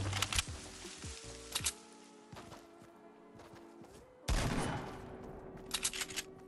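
Shots from a semi-auto hunter rifle in Fortnite Battle Royale, several sharp cracks spaced a second or so apart with a heavier burst near the end, amid quieter game sounds.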